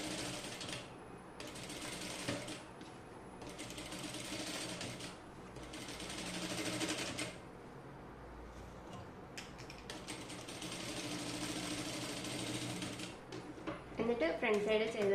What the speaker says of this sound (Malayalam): മാർക്കിങ്ങിലൂടെ നെക്ക് ഞാൻ സ്റ്റിച്ച് ചെയ്ത് കൊടുക്കുകയാണ്